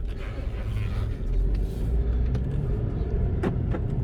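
A 2018 Mercedes-Benz C300 with a four-cylinder turbo engine, heard from inside as the car drives and shifts gears, giving a steady loud low rumble with a few faint clicks and knocks and no talking.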